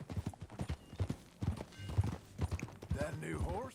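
Horse hooves clip-clop in Red Dead Redemption 2, a rhythmic, moderately close gait with a brief whinny near the end, under faint game ambience.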